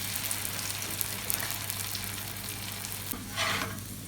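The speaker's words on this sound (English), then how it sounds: "So we are going to fry this in the oil." Lachha paratha, a multi-layered flatbread, sizzles steadily in hot oil in a pan, a continuous close frying hiss with a brief louder burst of bubbling near the end.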